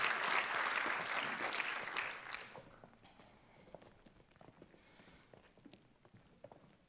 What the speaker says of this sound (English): Again, a warm applause,